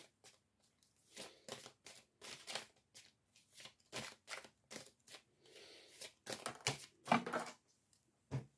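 Tarot cards are shuffled in short, quiet riffling bursts, one after another at an uneven pace, heard close up and alone.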